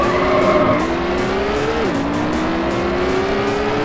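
A race car in Need for Speed High Stakes brakes hard, a steady engine drone carrying a sustained tire squeal that dips in pitch midway and then holds, continuous and close with no talking.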